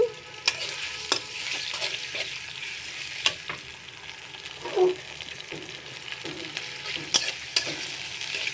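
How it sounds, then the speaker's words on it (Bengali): Prawns frying in hot oil with a steady crackling sizzle, broken by occasional sharp clicks and scrapes of a spatula stirring in the pan, close and fairly loud, no talking. "প্রথমে চিংড়ি মাছটা আমি ভেজে নিব"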